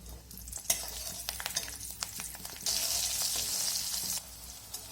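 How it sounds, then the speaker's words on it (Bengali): Garlic and green chilli frying in hot oil, a steady close sizzle with crackling spatters that swells louder partway through, with no talking. "একই তেলের মধ্যে আমি রসুন আর এই কাঁচা লঙ্কাটা ভেজে নেব"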